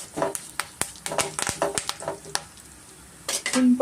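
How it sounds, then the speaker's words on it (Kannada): Curry leaves dropped into hot oil for garlic rice, giving sharp bursts of crackling and popping in an uneven rhythm with clinks of a spoon against the pan, close and fairly loud. "ಈಗ ಸ್ವಲ್ಪ ನಾನು ಕರಿಬೇವು ಸೇರಿಸ್ಕೊಳ್ತಾ ಇದ್ದೀನಿ ಚಟ್ಪಟ್ ಆಗಬೇಕಾಗುತ್ತೆ"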